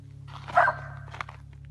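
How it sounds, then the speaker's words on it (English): A dog barks in a forest, with one sharp close bark followed by a softer second one and faint rustling underneath. "The dog won't stop barking, not out of curiosity"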